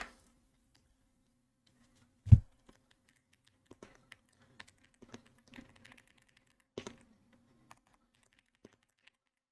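Sparse, quiet key clicks from an Epomaker x Aula F108 mechanical keyboard, irregular taps spread out with one louder thump near the start, otherwise near silence.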